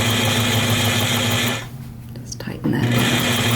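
Home sewing machine stitching a quilt along a ruler, a steady close whirring hum that stops briefly in the middle and then resumes, with a voice talking faintly during the pause.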